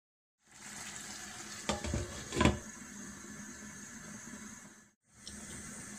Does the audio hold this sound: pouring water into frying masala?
yes